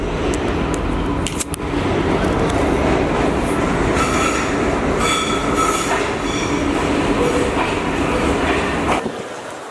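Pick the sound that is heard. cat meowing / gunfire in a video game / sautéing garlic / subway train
subway train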